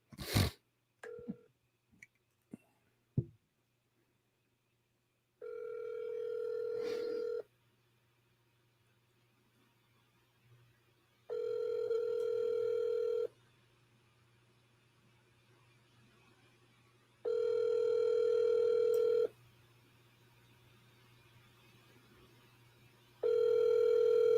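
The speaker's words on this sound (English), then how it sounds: "All right, let me try to call this guy Johnny." A telephone call starts with a few clicks and dial tones, then a long ringback tone repeats four times at steady intervals with silence between, clear and fairly quiet with no talking.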